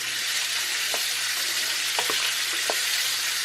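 A pot of red beans with ham hocks and smoked sausage simmers with a constant sizzling bubble while a spoon stirs it, scraping and knocking a few times, close by.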